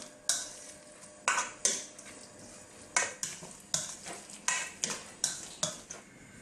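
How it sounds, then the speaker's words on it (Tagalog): Banana blossom omelette ingredients mixed in a bowl with a utensil, a series of about a dozen sharp scraping clinks at an irregular but steady pace, close and fairly quiet. "mix po natin siya hanggang mag-combine lahat ng ingredients."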